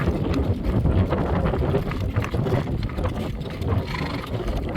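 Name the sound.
wind blowing on the microphone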